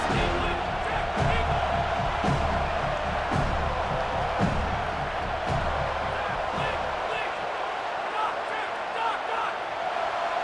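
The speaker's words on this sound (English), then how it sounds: "how nice is it to have the home crowd going absolutely bananas?" A home crowd in the EA Sports College Football 27 video game keeps up a dense, steady roar of cheering through the whole stretch, with scattered thumps and no clear let-up.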